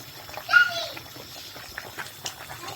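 A voice chatters in the background of a home kitchen while native soup cooks, brief high-pitched child speech rising over faint clatter and low room noise.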